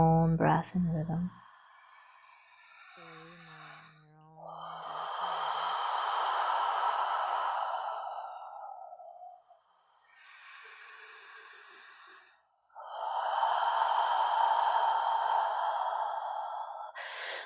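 Slow, deep breaths during a guided breathwork meditation, each long inhale and exhale drawn out over several seconds and repeated in a steady rhythm, close and fairly loud after a brief spoken moment at the start.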